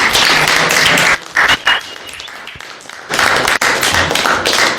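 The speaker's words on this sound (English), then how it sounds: "All right, everybody give a round of applause." A room of high school JROTC cadets applauds in dense bursts of clapping, dipping to quieter scattered claps in the middle before swelling loud again.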